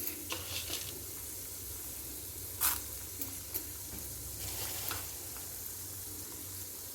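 Chana dal sizzling in hot oil as a tempering for a bitter gourd and onion-chilli curry, a steady low frying hiss with a few faint clicks and pops scattered through, no voices.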